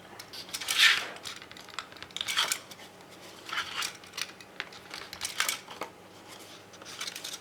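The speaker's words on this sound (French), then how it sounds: "j'ai même fait un petit coup de cutter dans ce sens-là pour pouvoir reprendre mes ciseaux" Scissors snipping paper for a baby photo album page, a series of short crisp cuts at uneven intervals, close up with no talking.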